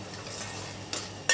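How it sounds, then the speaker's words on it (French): Chopped onions sweating in a pan for risotto, a soft low sizzle with a spoon stirring and a couple of sharp utensil scrapes against the pan, close and brief with no talk. "donc on fait suer des oignons"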